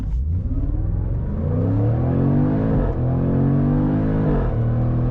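A 2024 Jaguar F-Pace SVR's V8 roars hard under launch-control acceleration, loud and close, with rising engine pitch through several upshifts of the 8-speed automatic and no crackles.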